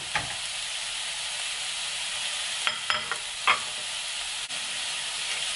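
Shrimp fry in a pan over heat just below medium, giving a steady, close sizzle with a few faint clinks of stirring. There is no talk.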